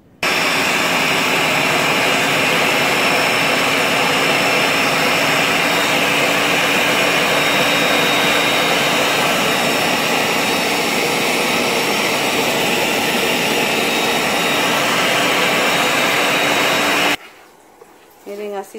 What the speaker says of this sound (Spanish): la masita para hacer los tamales de elote, que estamos moliendo el maíz